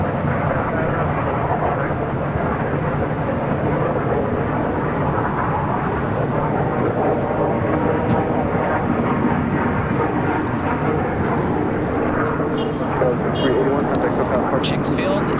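An airliner takes off from runway 24 right at LAX, a loud, steady broadband jet roar filling the whole stretch, with a faint radio voice at times.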